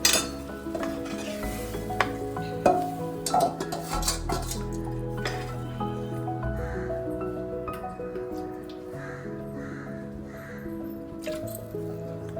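Fish curry (meen kuzhambu) being stirred in a pot, soft scraping and liquid movement under a steady background of crow caws and household noise, with faint clinks of the pan now and then.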